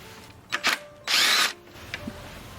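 A power drill spins out ignition coil bolts on a Hummer H2 engine, giving a couple of short bursts followed by one longer loud whirr, close up, with quiet pauses between.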